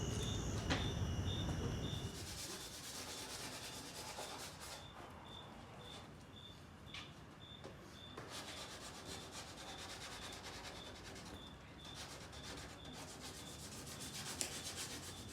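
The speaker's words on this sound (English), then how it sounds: "we're pretty much done sanding and doing body work on the truck" Continuous rough rubbing and sanding on a Toyota Tacoma truck body panel, steady and close, with a faint repeating high beep in the background.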